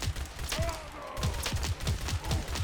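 Rapid laser rifle gunfire in the video game Fallout 4, a quick steady rhythm of sharp zapping shots, about a dozen in under three seconds, loud and continuous.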